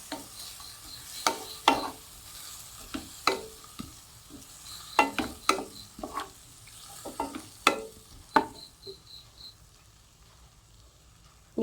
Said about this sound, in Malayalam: ഇനി നമുക്ക് നന്നായിട്ടൊന്ന് ഇളക്കി യോജിപ്പിക്കാം.